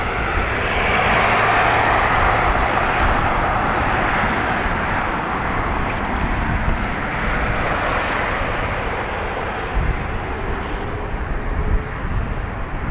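Airbus A330 on its takeoff roll from runway 28R at Dublin Airport, a loud, steady jet engine roar that holds strong and broadband for the whole stretch, with no voices over it.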